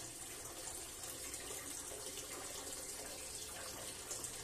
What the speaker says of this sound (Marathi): असं थोडस पाच एक मिनिटं पाणी फ्लश होऊ द्यायचं